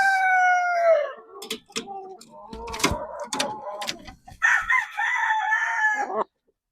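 A golden boy cross rooster crows loudly and close by, with clucks and scattered farmyard knocks following and a second crow near the end.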